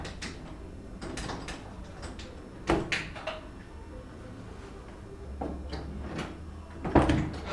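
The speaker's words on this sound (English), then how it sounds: "and then opens the door." A door swinging open in a horror spoof film, with a few soft clunks and knocks of the latch and frame against a quiet room background, no one talking.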